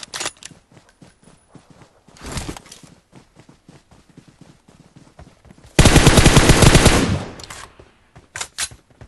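Gunfire in PUBG: scattered single shots and short bursts, then a long loud automatic burst, with footstep-like clatter between the shots.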